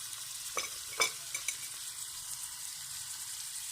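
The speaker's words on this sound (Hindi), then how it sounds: "इसको हम अच्छी तरह से इसमें भून लेंगे, इसका कलर चेंज होने देंगे" Minced meat with liver and kidney fries and sizzles in a pan with a soft continuous hiss, broken by a few sharp scraping stirs near the start, with no one speaking.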